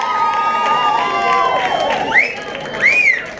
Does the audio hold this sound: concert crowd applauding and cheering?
yes